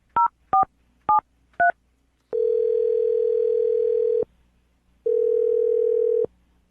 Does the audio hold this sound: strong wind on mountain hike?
no